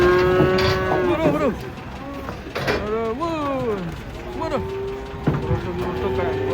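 Cows, including a cow with horns, low and moo repeatedly as they are unloaded from a truck. The drawn-out, close calls overlap with clattering and knocking from the truck, and people talk and call out throughout.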